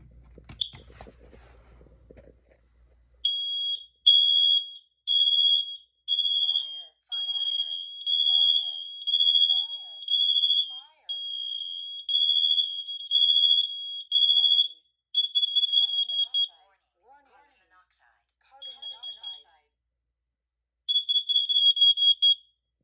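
Kidde hardwired smoke and carbon monoxide alarms sound together in an interconnection test, shrill high electronic beeps in repeated bursts, loud and close, with short gaps and a final burst after a pause; faint handling noise at the start.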